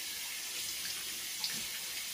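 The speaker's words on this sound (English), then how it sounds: "I'm gonna turn on some lukewarm water" A tap running lukewarm water into a sink gives a steady, close, hissing splash that carries on unbroken, with no talking.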